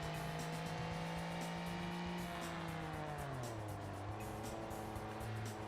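A BeamNG mod vehicle's four-stroke engine in a video game runs continuously and loud, its drone steady and then dropping lower in pitch, with no talk.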